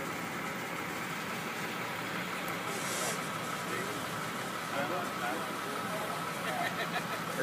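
A heavy-haul trailer carrying a retired 400-ton generator rolls along a highway interchange at night, giving a steady low engine and rumble drone with broad road noise and faint speech over it.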